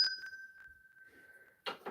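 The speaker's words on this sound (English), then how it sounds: "That deserves a bell, doesn't it?" A single clear bell ding rings out, a sustained pure tone slowly fading over about a second and a half, quiet and alone before a brief rustle at the end.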